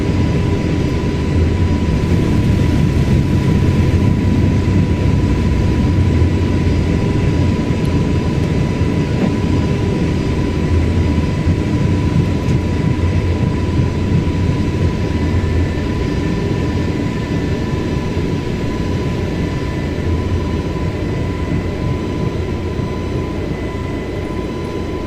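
Airbus A320neo jet engines at takeoff thrust in Microsoft Flight Simulator, a steady loud broadband roar with a constant hum, sustained without pause and no talk.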